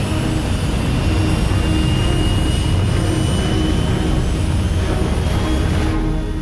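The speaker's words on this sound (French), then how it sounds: "Enclenchement du pilote automatique. Procédure de décollage activée." Cartoon aircraft engine roaring steadily during an autopilot takeoff, a loud, constant jet-like rush that holds throughout with no voices.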